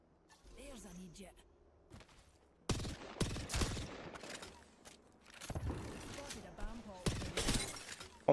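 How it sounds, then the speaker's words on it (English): Gunfire from the battle royale video game Apex Legends at a competitive esports match, bursts of rapid shots and sharp shattering hits in clusters, with caster commentary talking over the action. "great shots from Effect"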